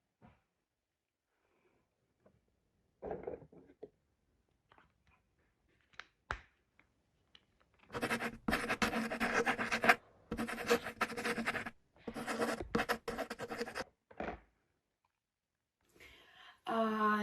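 Song lyrics being written by hand with a pen on paper: soft scratchy strokes come in short bursts, separated by pauses, close and fairly quiet, with a few sniffs in between.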